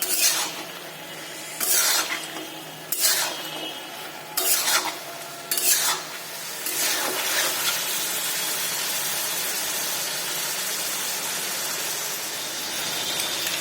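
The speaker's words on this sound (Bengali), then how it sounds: "এবার এই সমস্ত মশলা, পেঁয়াজ, ক্যাপসিকাম সবকিছুর সাথে চিকেনগুলো ভালো করে মিশিয়ে নিচ্ছি।" Chicken pieces stirred in a pan with spices, onion and capsicum: loud scraping stirs in several rhythmic strokes over the first half, then a steady, close frying sizzle continues alone.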